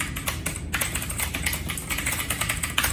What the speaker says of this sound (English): So as you can hear, it's very much the clicky key switches.